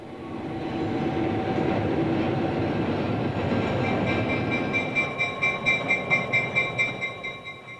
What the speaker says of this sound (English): The rolling stock's a collection of 50-year-old diesel locomotives lovingly rebuilt for the new life